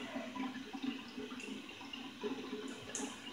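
Tap water runs onto a shaving brush during a barbershop-style straight razor head shave, a steady close splashing flow with small irregular bursts, no voices.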